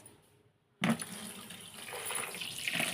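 Peeled ridge gourds are washed under running water: after a brief near-silence, a tap suddenly gushes and keeps splashing steadily into a sink, close and moderately loud.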